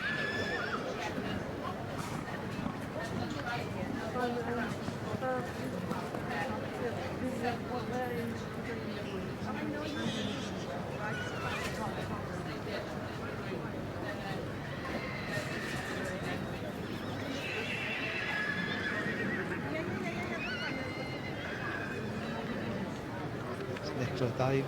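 Welsh ponies whinny and neigh in a busy show ring at an agricultural show, the calls rising over steady crowd chatter and a continuous outdoor hubbub, with occasional hoofbeats mixed in throughout.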